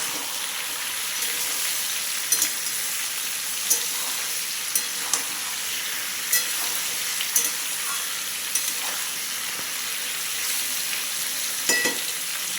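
Potatoes and pointed gourd fry in a pan with a steady, continuous sizzle and small scattered ticks and scrapes of stirring throughout, with no talk.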